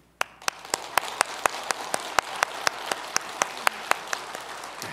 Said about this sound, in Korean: 인사하실 때 함께 박수하겠습니다.